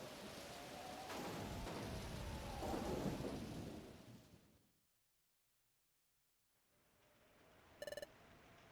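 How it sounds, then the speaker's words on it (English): Heavy rain and rumbling thunder from a storm scene in Pokémon Mystery Dungeon: Explorers of Sky, loud and steady for several seconds before cutting to near silence, then resuming with a short chiming electronic tone near the end. "There's no glass in the window, the rain is pouring in."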